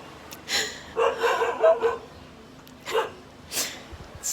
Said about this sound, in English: My next door neighbor dog barking.